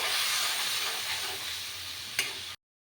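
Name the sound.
frying spice paste in a pan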